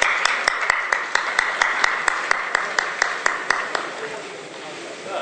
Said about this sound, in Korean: 수고해주신 여러분께 박수 한번 보내주십시오.